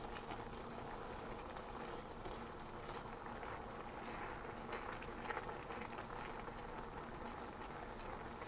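Macaroni boils in a pot on the stove, a soft, continuous bubbling and burbling of water at low volume, with no voices over it.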